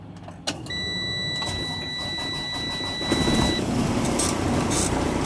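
A truck engine cranks and catches during a safe start with the clutch depressed and brakes applied, preceded by a click and steady electronic warning tones, then settles into a loud, even idle rumble close by.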